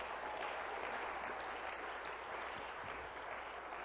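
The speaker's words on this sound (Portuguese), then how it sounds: "Pode aplaudir Jesus" A church congregation applauds during a sermon, a steady, even wash of clapping from many hands that continues without pause, heard faintly and from some distance.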